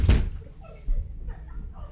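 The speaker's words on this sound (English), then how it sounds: "Somebody just banged on my door." A single loud, close bang strikes a door, followed by quieter room noise and a second, softer knock, with a voice faintly present.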